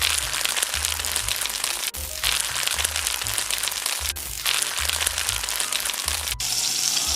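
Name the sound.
mustard seeds sizzling in hot oil in a frying pan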